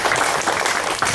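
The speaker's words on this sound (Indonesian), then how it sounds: "Kita tepuk tangan dulu sedikit." A church congregation at an Easter service claps together, a dense, steady patter of many hands filling the room for a brief moment.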